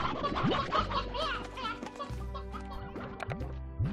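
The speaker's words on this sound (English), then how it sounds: "Let's grab some chickens." Clucking chickens in the game Slime Rancher cluster close by, a busy chatter of short squawks and clucks overlapping, with a soft thump partway through and no speech.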